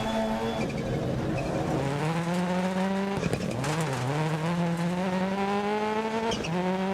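Rally car engine with a slight misfire in Dirt Rally 2.0, a loud, steady revving drone rising through the gears with brief dips at shifts, heard up close with no talking.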